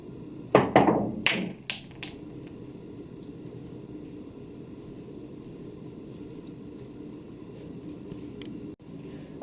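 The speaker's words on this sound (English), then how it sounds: "the cue ball will come out, follow forward, and make that 9 into the corner pocket" Pool balls click sharply a few times in quick succession as the cue ball strikes the 9 ball on a curve kick shot and rebounds off the rail, then fade into a quiet room hum.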